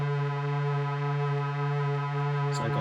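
A chorus effect in a maximum-feedback loop, processed with a short echo, gives a steady, buzzing harmonic drone that rings without a break, ending in a brief burst of added notes.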